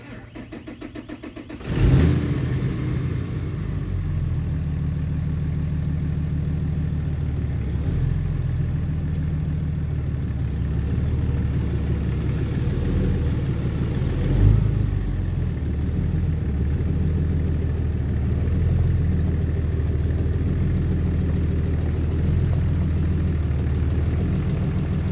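A long bed mega cab pickup truck engine cranks and fires up with a loud burst, then settles into a steady, rumbling idle close by with a brief rev midway.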